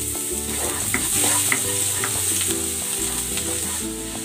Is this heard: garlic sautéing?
yes